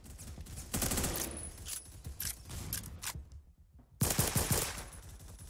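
Rapid automatic gunfire in the Phantom Forces shooter game, with bursts of close, loud shots that break off for a short pause and then return in a sharp volley.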